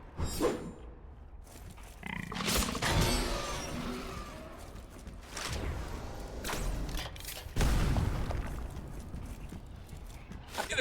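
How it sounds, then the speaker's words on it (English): Explosions in the video game Hellpoint give several loud, close booms and crashes spaced across the stretch, with rumbling game noise between the blasts. "How can an explosion that large and then miss?"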